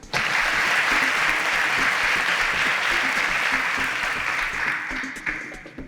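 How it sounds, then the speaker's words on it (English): A quiz show audience in Nigeria applauds a contestant with a dense, steady wave of clapping that holds loud for about five seconds before starting to thin out. "A round of applause for Sashi."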